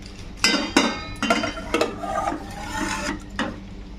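Mustard hilsa curry is scraped and poured from a cooking pot into a serving dish, heard as a few close metallic scrapes and clanks of a spoon against the vessel, with no talking.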